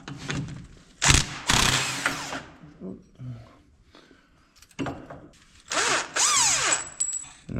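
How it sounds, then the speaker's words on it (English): Impact wrench spinning a 19mm ball joint nut free on a Kawasaki KRX, two loud buzzing whirring bursts separated by quieter clinks of metal and handling, close by, with a voice speaking briefly. "use our impact to go ahead and spin this free"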